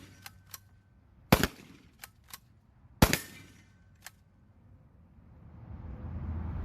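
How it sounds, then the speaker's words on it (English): A MAG-7 M1 shotgun fires shot shells outdoors: two loud, sharp blasts stand out among several lighter clicks and metallic clacks of the action being worked, followed by a low rumbling background. "still able to fire the shot shell"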